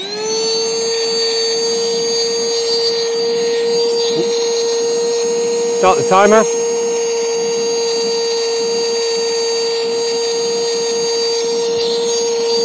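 A Mistral 12V electric paddleboard pump runs with a loud, steady motor drone and whine, close by, as a short voice and a brief rattle cut in midway.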